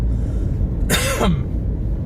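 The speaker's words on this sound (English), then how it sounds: "It's making me cough more the more I talk about it." A single short, harsh cough bursts out close by over a low steady background rumble, then fades.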